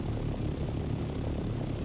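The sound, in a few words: helicopter flying in Dune: Awakening video game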